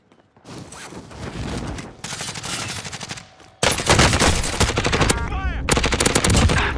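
Rapid automatic gunfire in the video game Call of Duty Warzone, loud sustained bursts with a short pause and then a heavier barrage, with no talk over the shooting.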